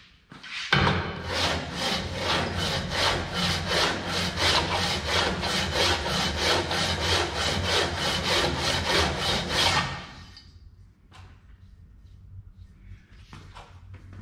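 A cylinder head for a Wisconsin engine being worked back and forth across a sanding bed, giving loud, steady rhythmic rasping strokes for about nine seconds before stopping, then quiet handling noises.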